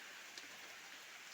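Rain falls steadily over a forest, a faint, even hiss of countless drops on leaves and ground with no break or pause, heard at a distance and with no voices.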